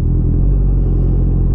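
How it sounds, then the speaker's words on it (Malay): A motorcycle passes on a road near a petrol station, a steady low engine rumble held close and fairly loud across the whole moment with no talking. "Bagi motor ni lalu dulu."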